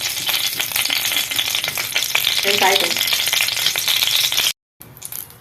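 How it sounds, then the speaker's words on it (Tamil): Steady sizzling and crackling of cashews frying in ghee, with stirring scrapes, then a brief cut to silence before the frying resumes. A voice speaks briefly. "முந்திரி வறுத்துருவோம்"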